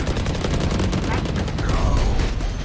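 Rapid gunfire from a Valorant match, likely a Vandal rifle, crackles in dense overlapping bursts at close range for the whole stretch, loud and continuous.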